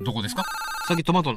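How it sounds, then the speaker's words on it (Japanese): A phone-like ringing sound effect from a retro Namco video game with space and maze zones rings steadily for about half a second, with people talking just before and after it. "電話ちゃいますよこれそういうゲームの音ですよ"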